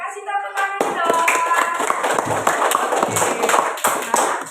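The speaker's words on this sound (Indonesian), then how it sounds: "kasih tepuk tangan dong" Students in a classroom clap their hands in a quick burst of many overlapping claps, lively and close, with a voice audible at the start.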